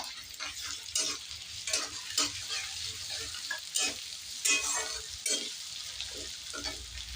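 Grated ginger fries in a pan with onion, garlic and green chilli as the masala for Bengali pabda fish curry. A close, steady sizzle runs throughout, with repeated bursts of spatula stirring and scraping at an irregular rhythm.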